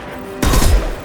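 A single loud, booming gunshot from the shooter game Mass Effect 2 hits suddenly after a quiet moment, with a deep low-end rumble trailing off over the next half second.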